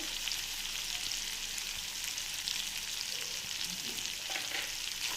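A masala tempering fries and sizzles in a pan as it is stirred, a dense, steady crackle with occasional scraping from the spoon, close and continuous with no talking.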